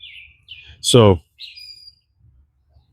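Small birds chirp outdoors in short bright calls, with a brief spoken word partway through and quiet gaps between the calls.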